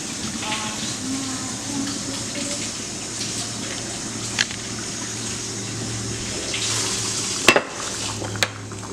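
Running tap water during washing in a kitchen where a Peruvian squash stew is being cooked, a steady hiss and splash with a few sharp clatters near the end.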